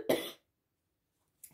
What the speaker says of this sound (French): là je tousse à nouveau là depuis 2 jours